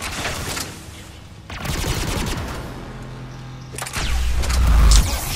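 Rocket rifle fire in Mass Effect 3, loud bursts of rapid shots and whooshing impacts in two clusters separated by a quieter stretch, no voices.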